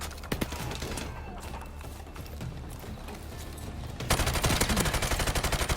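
Rapid bursts of G36C rifle fire in Call of Duty, loud sharp shots repeating in a steady stream, growing denser and louder toward the end.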